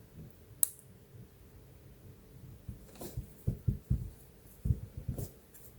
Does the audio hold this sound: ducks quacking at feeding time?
no